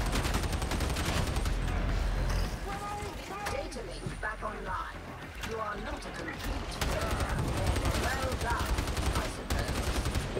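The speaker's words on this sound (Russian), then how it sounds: "Короткими очередями стреляю." Video game gunfire in Darktide, fired in short bursts, dense repeated shots through most of the stretch with game effects mixed in, while someone talks over it.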